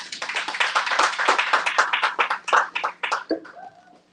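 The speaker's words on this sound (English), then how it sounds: "Round of applause." A small audience at a book event claps for a featured guest, with close, distinct handclaps in a brisk rhythm that thin out and fade toward the end.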